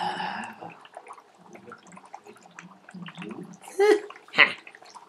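Dry ice sublimating in water, releasing gas as small bubbles that gurgle and pop in irregular bursts, with a couple of louder bubbly splashes near the end; a faint voice murmurs underneath.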